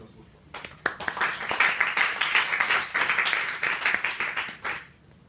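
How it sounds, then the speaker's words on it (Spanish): An audience at a political theory lecture's opening session breaks into warm applause, a dense steady clapping that swells after a few scattered first claps and fades out after about five seconds. "Un aplauso, por favor."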